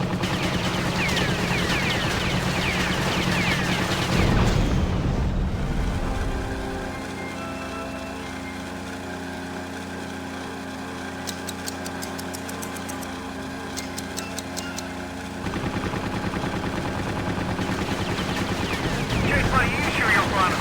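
Rapid machine-gun fire from a WWII aircraft strafes gun towers in the Secret Weapons Over Normandy game, bursts over a constant droning engine, loud and close, with radio voices talking in places.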